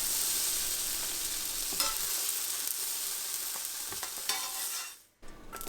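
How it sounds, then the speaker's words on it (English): Tofu browning in a hot pan, to be cooked with green beans and sesame seeds, gives a steady close sizzle with a few stirring knocks, then cuts out briefly near the end before resuming. "once the side gets brown, I'll go in here and jog the tofu and get the other sides browned as well"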